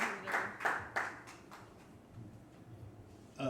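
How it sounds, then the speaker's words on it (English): Brief applause for a school board debate participant, a few sparse claps from a small audience fading quickly into near silence, with a faint clap returning at the end. "everybody give him a round of applause for a great job"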